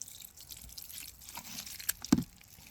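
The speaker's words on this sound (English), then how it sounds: "I'm going to add another half a cup of water to it" Water poured into fresh bedding in a new bin for blue worms (Perionyx excavatus), heard as a faint, brief trickle and a soft splash with a few drips, with no voices.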